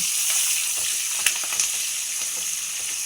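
A tempering for gongura dal sizzles hard in a hot pan, a loud, dense, continuous hiss with a couple of sharp pops and light stirring near the middle.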